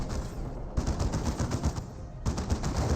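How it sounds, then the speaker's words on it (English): Weapons firing in a Dawn of War 2 battle, including melta gun fire: dense, continuous rattling bursts of gunfire and blasts, loud and sustained, with a brief gap partway through. "Melta Gun fire away"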